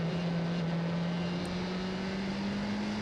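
A 4.2-litre Gibson V8 racing engine in an Oreca endurance prototype at the Portimão 4 Hours, a steady sustained drone heard from a distance and holding a constant pitch throughout, with no talk over it.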